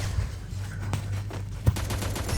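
A new submachine gun fires in Free Fire in quick bursts of short cracks, fairly faint at first and then a rapid run of shots under steady game background noise.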